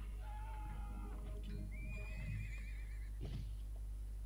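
A horse whinnies in the video game Dark Parables, giving a long wavering neigh, then a second rising call and a brief snort, fairly close and clear over a low steady hum, with no talk.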